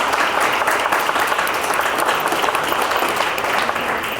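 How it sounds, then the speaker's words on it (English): Steady, loud applause from an audience filling a fundraiser for an Iowa State Representative, a dense wash of clapping hands that holds evenly throughout with no voices rising above it. "She gave her a round of applause."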